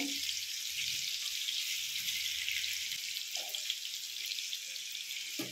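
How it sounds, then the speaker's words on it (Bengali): Potato pieces fry in hot oil in a pan, giving a steady, even hiss of bubbling fat throughout, with a few faint soft clinks in the background. "আলুগুলো এখানে ভাজতে শুরু করে দিয়েছি"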